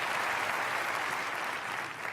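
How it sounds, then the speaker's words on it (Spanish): Dense, steady applause from a church congregation during a sermon, filling the whole stretch and easing off slightly at the end. "Dale a Dios un aplauso por eso"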